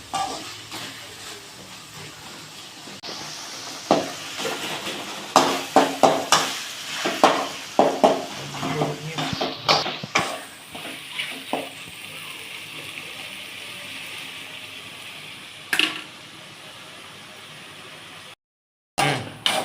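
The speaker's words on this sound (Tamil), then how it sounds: "தக்காளி நல்லா வதங்கணும்." Tomatoes softening in a pan for a beef intestine curry, with a continuous low sizzle broken by repeated scraping stirs of a spoon against the pan, then a quieter steady fry near the end.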